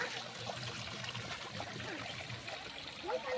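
Water falls and trickles in a steady, soft, continuous wash that stays faint and unbroken throughout, with no voices over it.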